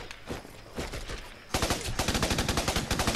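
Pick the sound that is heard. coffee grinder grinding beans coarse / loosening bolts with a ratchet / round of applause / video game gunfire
video game gunfire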